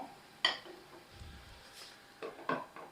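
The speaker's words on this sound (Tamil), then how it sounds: "மூடி போட்டுருவோம்" A metal lid set onto a cooking pan of sautéing fish curry masala sounds as one sharp clink near the start, followed by softer clatters of cookware a couple of seconds later in an otherwise quiet kitchen.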